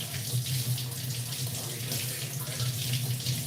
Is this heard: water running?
yes